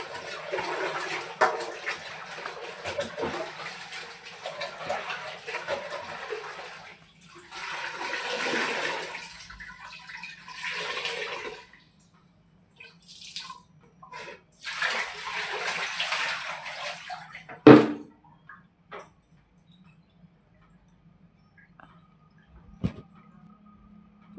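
Water splashing and running over a bathroom floor as it is washed, close bursts of gushing and flushing separated by quiet gaps, with a sharp knock near the end and no talking.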